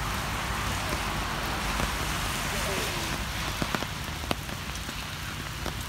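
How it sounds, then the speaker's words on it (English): Steady rain patters densely on surfaces, with occasional sharper drops standing out close by. "It's raining here."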